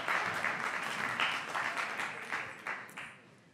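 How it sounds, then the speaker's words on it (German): Applause from the audience at a youth speech contest, a steady burst of many hands clapping that gradually thins out, with a few final isolated claps. "Also nochmal einen Applaus für den Emil Fink."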